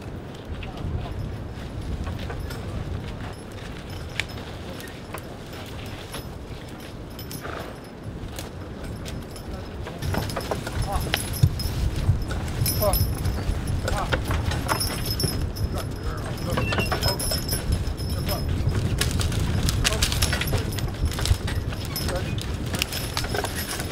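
Draft horses hauling a logging cart through woodland, hooves clip-clopping steadily under ongoing talk, with harness and chain jingles and general outdoor work noise growing louder midway.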